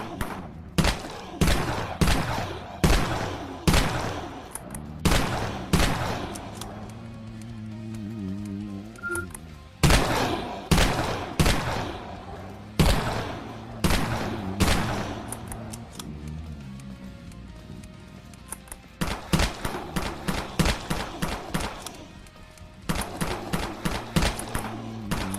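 Crisp gunshots crack in quick rhythmic volleys in the online zombie shooter Dead Frontier, separated by short lulls, each burst a run of sharp, evenly spaced reports.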